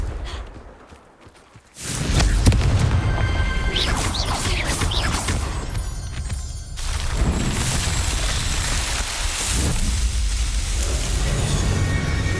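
Blasting fire-curse explosions in a fantasy action game, a sudden loud burst after a quiet opening, followed by sustained rumbling crashes and debris noise at close range, with a second surge midway.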